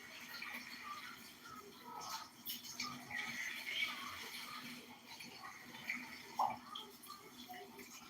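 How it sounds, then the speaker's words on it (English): Tap water running while a cup is rinsed out at a sink, a faint, steady trickle and splash with small clinks, close by and quiet. "hold on, I'm rinsing my cup out real quick."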